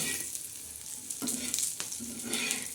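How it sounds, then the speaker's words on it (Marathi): Green chillies and whole spices with coconut and garlic roasting for black masala in a pan, a steady low sizzle and crackle with occasional scraping stirs, close and fairly quiet. "मिरच्या तर हे बघा मिरच्या अशा मस्त भाजून घ्यायच्या मसाला असा छान भाजायचा"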